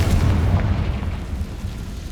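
The Confringo spell's explosion in Hogwarts Legacy on PS5: a deep, rumbling blast that swells at once and fades slowly over a couple of seconds, loud and close with no voices.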